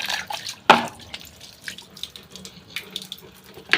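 Water runs from a tap while hands are washed at a sink, a soft continuous splash with a few sharper splashy bursts near the start and end, close by and moderately quiet, with no talking.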